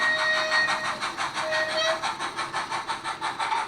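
Rapido model J70 tram locomotive of the Wisbech & Upwell Tramway type running with DCC sound, giving a steady, rhythmic chuffing beat with metallic ringing tones, close and fairly loud.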